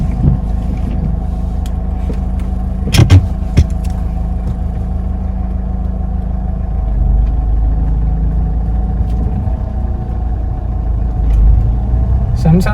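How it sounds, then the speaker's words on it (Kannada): A Mahindra XUV500 engine runs with a steady, loud low rumble, a couple of brief clunks near the start, and a slight swell partway through. "ಇಂಜಿನ್ ಸ್ಟಾರ್ಟ್ ಆಗಿರೋ ನಿಮ್ಗೆ ಗೊತ್ತಾಯ್ತು."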